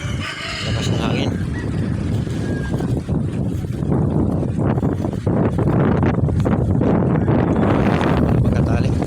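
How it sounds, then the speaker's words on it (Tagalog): Strong wind buffets the microphone beside a sea whipped white by gusts, a steady loud rumble filling the clip from start to end, with a faint bird-like call early on. "Lakas ng hangin."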